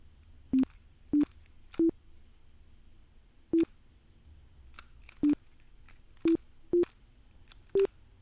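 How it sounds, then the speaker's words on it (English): Sparse, faint electronic beeps come from a GAN smart Rubik's cube as a tune is played on it by turning the faces. About eight isolated tones fall at uneven intervals over near silence. "you can also play Twinkle Twinkle."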